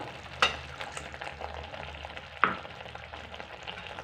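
A cornflour and milk mixture stirred in a pan for a coconut sweet, a low bubbling sizzle with slow scraping strokes and two sharp clinks of a utensil against the pan.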